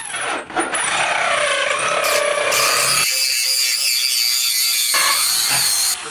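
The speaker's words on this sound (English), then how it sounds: "Now I'm going to drill the other hole" A power drill whines steadily as it bores through material, its pitch shifting partway through, loud and close without any talking.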